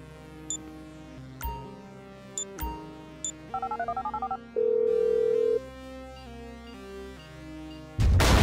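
Phone dialing in the video game GTA V: a series of separate keypad beeps, a rapid run of tones, then a sustained tone and a burst of ringing, clear and close with no voices.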